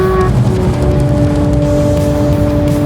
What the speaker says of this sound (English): We were driving 120 miles an hour there